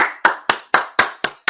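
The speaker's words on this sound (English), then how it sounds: "let's clap it up." Group clapping at a scripture breakdown class in Gary, Indiana: six sharp, evenly spaced claps in a steady unison rhythm, loud and close with no talk.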